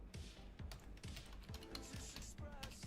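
Rapid clattering keystrokes on a computer keyboard, close and steady, with irregular taps running throughout.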